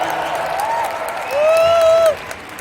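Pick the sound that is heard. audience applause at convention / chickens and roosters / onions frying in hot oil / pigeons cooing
audience applause at convention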